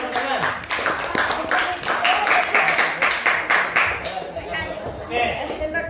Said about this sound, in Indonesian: yang beri tepuk tangan